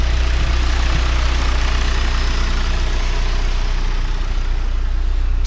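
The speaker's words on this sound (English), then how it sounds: "the good news is that it's idling quite well" A turbocharged Honda H22 engine with stock sleeves idles steadily and loudly throughout, a constant low rumble with a faint hum and no other sounds.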